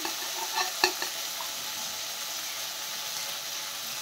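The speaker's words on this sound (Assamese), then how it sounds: "এতিয়া মই ইয়াত ফ্ৰাই কৰি থোৱা মাছ দি দিম" Fried fish stirred into softened tomatoes in a pan for an Assamese onion fish dish, with a soft steady sizzle and a couple of sharp scraping clinks from the spoon near the start.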